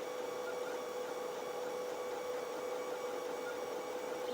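A Creality CR10 3D printer runs a print with a steady mechanical hum and a sustained whine, constant and close throughout with no talking.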